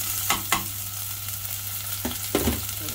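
Garlic and onion sauté in hot oil in a pan for a clam dish, a steady close sizzle broken by a few sharp stirring scrapes near the start and again toward the end, with no talking.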